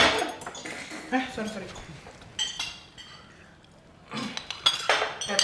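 Metal cutlery and dishes clink and rattle in bursts as someone rummages for a spoon, close and sharp, with a brief spoken word mixed in.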